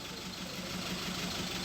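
Hyundai Grand Starex engine idling steadily after warm-up, a low, even rumble with a faint regular pulse, close by and alone without talk.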